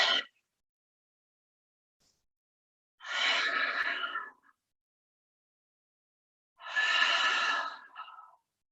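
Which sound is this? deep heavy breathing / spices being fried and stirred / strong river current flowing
deep heavy breathing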